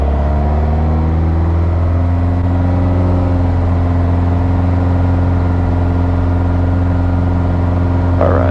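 Piper Arrow light aircraft engine at takeoff power, a loud, steady droning roar with a strong propeller hum that holds constant and unbroken throughout.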